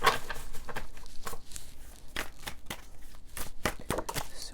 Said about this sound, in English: Let me shuffle these properly and hold the deck upright.